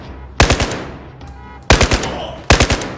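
Three loud, close bursts of machine-gun fire from the video game Battlefield 4, each a quick rattle of several shots, separated by short pauses filled with ringing game ambience.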